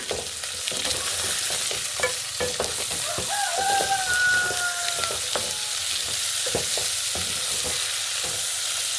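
Chopped capsicum sizzles steadily in a hot pan for a beef stew while a utensil scrapes and stirs through it, a constant close frying hiss with occasional clinks and faint background birdsong.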